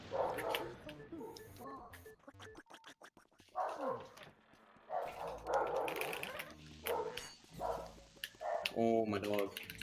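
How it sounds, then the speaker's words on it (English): Dogs from the Luigi's Mansion game bark in short repeated yips and bow-wows, mixed with frequent talking from a person over the game audio, moderately loud and bursting irregularly across the stretch. "they bark way too much"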